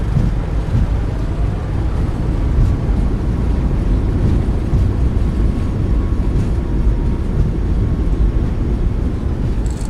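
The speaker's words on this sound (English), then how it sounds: "Nose down gently. Reversers are out. Decelerating." Boeing 737 MAX 8 thrust reversers deployed during landing in Microsoft Flight Simulator 2024, a loud steady low roar of engine noise and rushing air holding continuously throughout.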